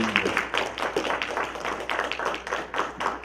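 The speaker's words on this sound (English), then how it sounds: "Let's give those three candidates a round of applause" Audience at a judicial candidate forum for Fulton County Superior Court hands clap in steady, dense applause, moderately loud and sustained throughout with no talk over it.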